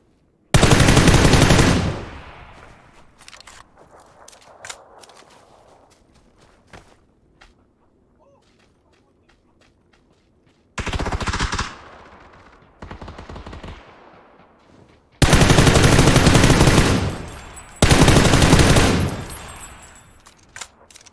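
Video game gunfire: loud bursts of automatic machine-gun fire, then scattered single shots and footsteps, with a quieter stretch before two more heavy bursts near the end.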